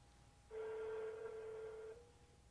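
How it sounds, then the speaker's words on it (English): A Pioneer AVH-X2500BT car stereo places a phone call to a contact from its phone book. It gives one steady, quiet electronic telephone tone that lasts about a second and a half and then cuts off, with no talking. "So let's call Pioneer Electronics from our phone book."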